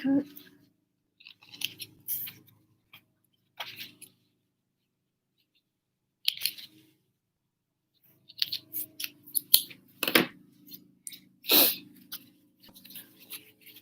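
Scissors snip excess threads on a homemade fabric face mask, giving short crisp clicks and cuts in scattered bursts separated by silence, close and fairly quiet.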